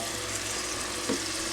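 Onions sautéing in a pan, a steady soft sizzle with a faint stir or clink near the end, moderately close and fairly quiet with no talking.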